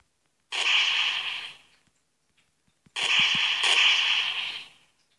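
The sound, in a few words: explosion in Minecraft mod DesnoGun, from a video game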